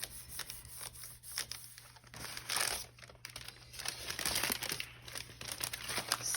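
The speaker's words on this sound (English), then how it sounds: "and then I'm going to rip it, and I'm not going to worry if some of it rips off of the actual card" Paper being ripped and peeled off a handmade card, with dense crinkling and tearing bursts close to the mic, quiet and continuous with a faint steady hum beneath.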